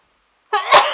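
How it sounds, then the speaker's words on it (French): A woman sneezes once, loud and close, after a brief silence, with a short sharp intake and an explosive burst trailing off. "je vais éternuer."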